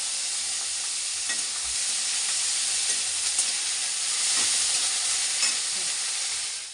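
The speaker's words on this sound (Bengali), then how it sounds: "এখানে দেখো চিকেনটা ভালোভাবে কষানো হচ্ছে" Steady, loud sizzling and frying hiss from a hot pan of chicken, continuous throughout with faint stirring scrapes and no voices.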